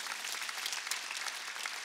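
A church congregation claps during a Korean Wednesday worship service, a fairly soft but continuous patter of many hands with crisp individual claps for a couple of seconds, no voices.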